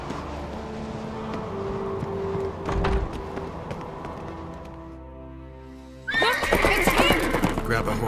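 A horse in The Witcher 3 gives a loud, shrill whinny near the end, after stretches of game music and ambient sound.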